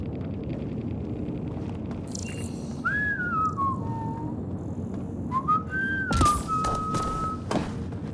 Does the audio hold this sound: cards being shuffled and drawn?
no